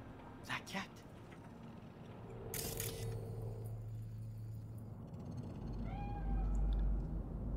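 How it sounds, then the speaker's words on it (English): A cat in the video game Cyberpunk 2077 lets out a couple of short, rising meows late on, over a low rumbling city ambience with faint clicks and hum. "Do you see it? That cat?"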